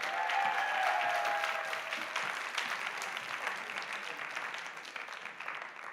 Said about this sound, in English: you can applause once again Mihai from the University of Sibiu